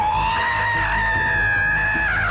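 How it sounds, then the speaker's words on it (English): An orc captain in the video game Shadow of War lets out one long, loud, sustained scream that wavers in pitch and holds unbroken from start to finish. "this guy who just screams at you"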